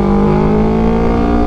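A Yamaha R3 twin-cylinder motorcycle with an Akrapovic full exhaust revs at high RPM, giving a loud, steady, close-up engine drone with no break.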